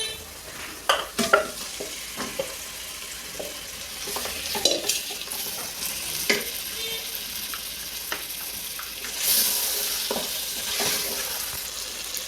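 Mutton pieces fry in hot oil in a pan with turmeric while being stirred, a steady close sizzle punctuated by scraping spoon strokes and clinks against the pot.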